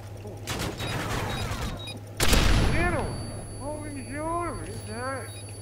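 Gunfire from a search-and-destroy match in a video game crackles in rapid bursts, with a heavier blast partway through. Excited voices talk over the shots.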